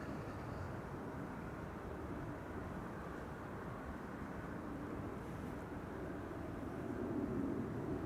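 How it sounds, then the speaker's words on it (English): A China Southern Cargo Boeing 777 freighter arriving at Amsterdam Schiphol gives a steady, distant low jet rumble that holds level throughout and swells slightly toward the end, with no talking. "China Southern Cargo, here it is. Angry looking Chinese 777 freighter, 10 hours and 59 minutes on the way."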